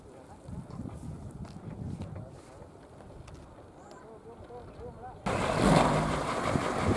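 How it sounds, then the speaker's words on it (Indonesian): Outdoor wind gusting around bamboo poles set up for raising a tall pinwheel mast, a steady rushing roar that surges much louder near the end with heavy buffeting against the microphone. "Anginnya kadang ada datang ya, lumayan gebrut"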